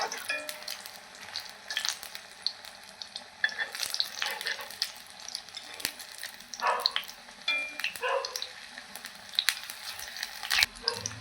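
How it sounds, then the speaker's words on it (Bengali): Pumpkin pakoras deep frying in hot oil, giving a continuous crackling sizzle that swells and fades in uneven bursts. Faint clinks of stirring come through, and no one speaks. "এইভাবে আমি সবগুলো ভেজে নিচ্ছি"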